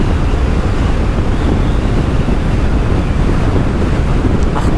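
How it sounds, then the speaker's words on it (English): Strong wind on a hilltop buffets the microphone in a continuous loud roar, dense and unbroken throughout, with no speech. "And it's so windy up here as well."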